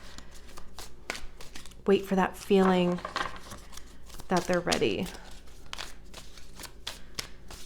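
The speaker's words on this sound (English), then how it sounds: "give me just a couple minutes here to shuffle these bad boys" Tarot cards being shuffled by hand, with repeated crisp riffling and flicking bursts running under a woman's speech, close and fairly loud throughout.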